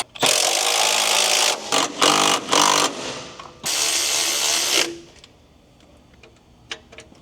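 Engine mount bolts being tightened on a 2001 Honda Prelude during an H22 VTEC engine install: loud, close mechanical tool bursts, one long run then several short choppy ones and another long run, before dropping to faint workshop noise with scattered clicks.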